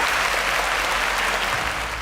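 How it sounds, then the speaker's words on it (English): A studio audience applauds a student contestant on a televised science quiz show, a brief, steady burst of close, full clapping that fades slightly at the end. "A round of applause for Oluwafemi."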